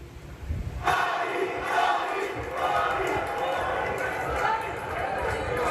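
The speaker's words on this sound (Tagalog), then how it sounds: "Ito yung isa sa pinakamalakas na crowd reaction nung gabing yun" A battle rap crowd roars with cheering and shouting that swells suddenly and holds loud and dense, with voices mixed through the din.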